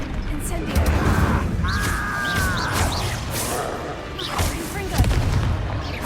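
Spells cast in Hogwarts Legacy during a mine and tomb fight, with a fire spell among them: repeated booming magical bursts and whooshes over a continuous battle din, with a voice shouting.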